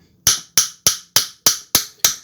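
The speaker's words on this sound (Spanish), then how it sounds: "vamos a empezar pegándole unos golpecitos, agarrar el martillito" A small hammer strikes a rusted, seized York pliers seven times in an even rhythm, each sharp metallic tap close and loud, ringing briefly before the next, with no talk.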